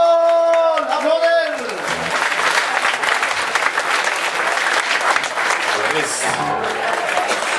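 A large crowd bursts into sustained applause after a brief spoken introduction in Swedish, steady dense clapping filling the room for several seconds.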